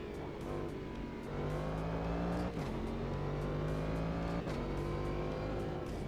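Race car engine in the sim racing game Automobilista 2, a steady loud drone that rises and falls as the car accelerates and shifts gears, with no talk.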